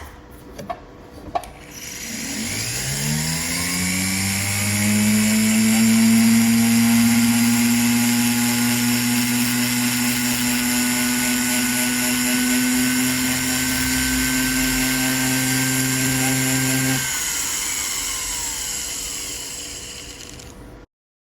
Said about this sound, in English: what I'm doing is just using this power burnisher